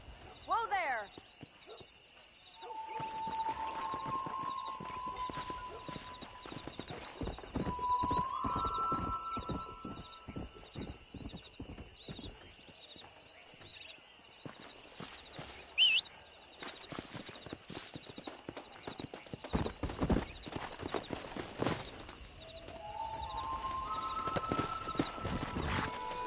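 Horseback riding in the western game Red Dead Redemption, steady clip-clop of hooves with an occasional whinny and snort, under intermittent character dialogue.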